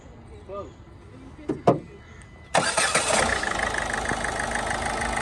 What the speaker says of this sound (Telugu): సింగిల్ సెల్ఫ్లో బండి స్టార్ట్ అవుతుంది సార్